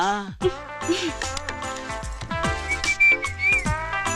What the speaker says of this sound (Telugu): అలా విజిల్ కూడా వేయకూడదు తల్లి